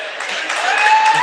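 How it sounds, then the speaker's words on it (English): Hockey fans cheer at a game between FHS and Olentangy, a steady swelling roar of crowd noise that builds slightly across the moment, with a high whistle-like tone cutting through. "Philly fans cheering it."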